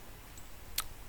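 A single short, crisp computer mouse click during 3D modelling work in Blender, close and isolated against quiet room tone.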